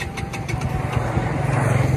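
A Bajaj NS200 motorcycle engine cranks and sputters while failing to start, a loud rough rhythmic churning close by that builds slightly without catching.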